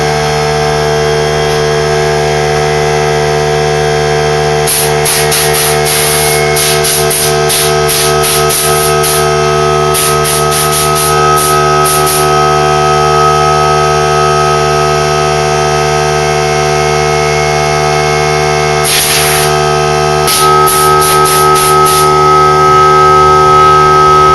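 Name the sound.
air compressor running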